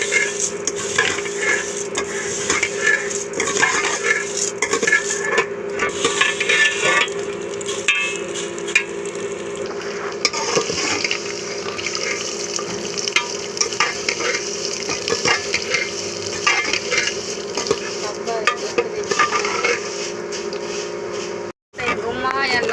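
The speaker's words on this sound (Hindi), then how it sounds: "ये फ्राइड नहीं है, तो इन्हें हमने फ्राई करना है" Vermicelli (sevaiyan) frying in a pan and being stirred: a continuous, close sizzle with scattered clinks and scrapes of the spoon, and a voice talking over it throughout.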